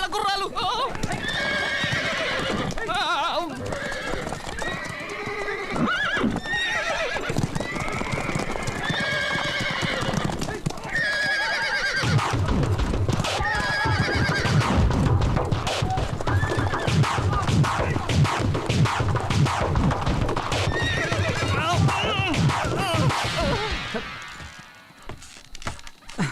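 Horses neigh repeatedly while their hooves clip-clop steadily as they pull a royal chariot that has stopped on the road. Both sounds run loud and continuous throughout, with a heavier rumble in the second half.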